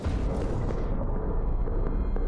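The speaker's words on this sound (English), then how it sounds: "Explosion." An explosion in the horror game Mask of Amnesia: The Bunker, heard as a dense, sustained low rumble that dulls and fades as the high crackle drops away.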